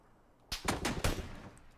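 Gunfire in PUBG, a quick burst of several sharp shots after a moment of quiet, moderately loud, then a fading tail.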